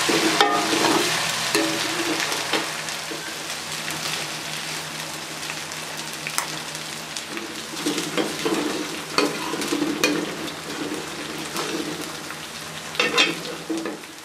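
Onion, ginger and garlic fry in a pan while being stirred, a steady crackling sizzle with scraping stir strokes and small pops throughout, fairly close, with no talking.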